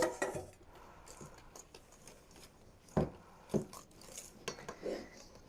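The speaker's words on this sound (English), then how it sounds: "It just simply says whisk it in." A whisk works flour and sugar into thick madeleine batter in a bowl, giving scattered metallic clinks and taps with a soft steady scraping underneath, fairly quiet and close.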